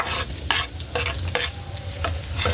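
Onion sizzling in a pan as it is stirred, steady frying hiss broken by repeated scraping strokes roughly every half second, close and without talk.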